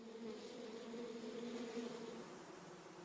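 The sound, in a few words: bees buzzing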